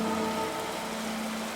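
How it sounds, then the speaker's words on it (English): Steady rain falls and patters on surfaces outside near a garden with umbrellas, a continuous broadband hiss that holds evenly from start to finish with no voices. "Until it started raining. I hate the rain."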